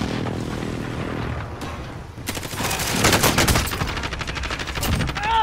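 Airstrike gunfire in Call of Duty Warzone, with quieter rumbling that gives way to a loud, dense burst of rapid overlapping shots and blasts lasting several seconds.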